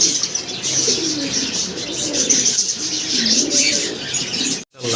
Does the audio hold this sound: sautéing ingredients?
no